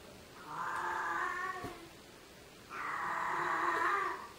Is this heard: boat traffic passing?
no